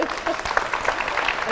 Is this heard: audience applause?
yes